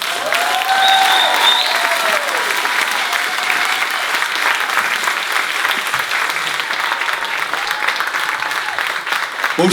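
Audience applause and cheering after a live singing and beatbox performance, a dense steady clatter of clapping filling the whole stretch, with a few shouts and whistles rising over it early on.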